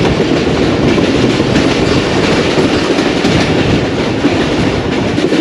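Jaffar Express passenger train (39UP) running along a single-line track between Lahore and Rawalpindi, with steady loud rumble and clickety-clack of wheels on rails throughout, no voices.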